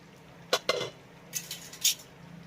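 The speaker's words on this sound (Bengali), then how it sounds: "ঢাকাটাকে তুলে আলুটাকে আরও একবার নেড়ে চেড়ে নেবো" A lid is lifted off a pan of potatoes cooking for potato curry, followed by a spoon stirring and scraping them, with two sharp clanks and then a few softer scraping strokes, close and fairly clear.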